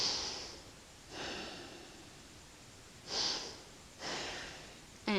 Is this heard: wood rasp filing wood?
no